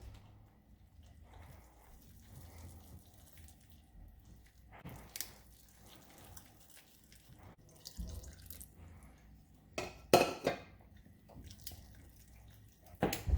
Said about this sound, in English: So we're going to add a little bit of water first and check the consistency.